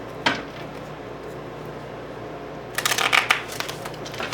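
Tarot cards being shuffled by hand, a brief riffle at the start followed by a louder, flurried burst of card shuffling near the end, close and crisp with no talking.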